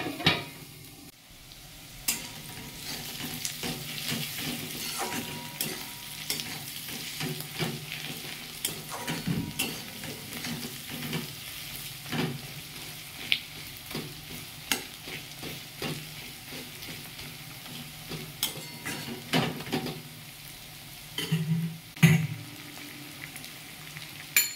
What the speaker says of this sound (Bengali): ভালো করে পেঁয়াজটাকে ভাজতে হবে, কিন্তু খুব আবার কড়া করেও ভাজবো না।